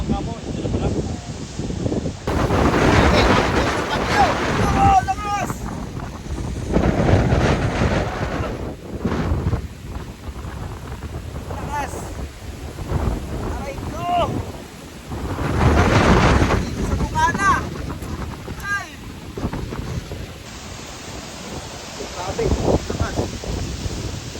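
Strong gusting wind from a typhoon buffets the microphone in repeated surges, with rain and rumbling under it and voices talking briefly.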